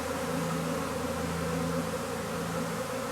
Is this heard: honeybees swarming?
yes